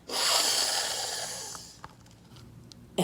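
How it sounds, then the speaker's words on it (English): A single long, strong nasal inhale through the nose pressed into a rose, loud and close, tapering off into quiet with a few small clicks afterward. "He took a sniff, a big, big sniff"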